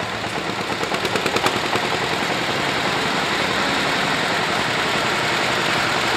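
Engine of a 1953 DT-14 tractor at a tractor parade, throttled up with fast rhythmic chugging pulses that swell and then settle into a loud steady run.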